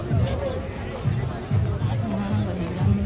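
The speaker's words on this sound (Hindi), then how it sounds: "भीड़ देखें, भीड़" Crowd chatter and a dense murmur of many voices drift through an open public space around India Gate at night, with steady babble from nearby and distant groups and no single clear voice.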